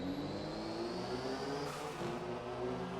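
Steady, continuous racing-car engine drone from the PlayStation 1 game JGTC: All-Japan Grand Touring Car Championship, a flat sustained buzz with a whiny synthetic tone and no talk over it.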